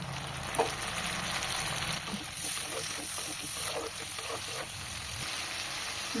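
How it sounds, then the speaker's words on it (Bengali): Prawn dopeyaza masala sizzles steadily in a pan on a high gas flame after water is stirred in, a continuous close hiss with scattered clicks of stirring. "মশলা কন্টেনার ধোয়া জল এর ভেতরে অ্যাড করে দেব আর গ্যাসের ফ্লেম হাই করে দিতে হবে"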